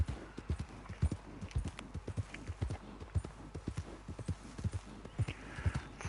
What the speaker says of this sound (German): Vorher immer schauen, dass man das Pferd gemütlich reitet.